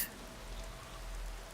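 Rain falls in Skyrim VR, a steady, even hiss of droplets with a low rumble underneath, continuous and moderately loud, with no voices.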